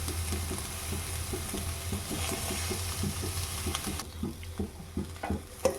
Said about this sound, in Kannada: ಟೊಮ್ಯಾಟೊವನ್ನು ಕೂಡ ಸ್ವಲ್ಪ ಹೊತ್ತು ಹುರ್ಕೊಳ್ಳೋಣ.